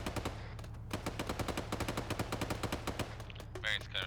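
Rapid bursts of machine gun fire from a military video game, sharp evenly spaced shots in long strings over a low steady hum, close and loud, with a faint voice-radio crackle near the end.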